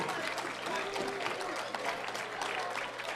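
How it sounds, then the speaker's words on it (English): A crowd at a pro boxing dinner event applauds the head chef and waiting staff, broad continuous clapping with voices mixed in the background, moderately loud and steady. "give a huge round of applause for our head chef and all our waiting staff"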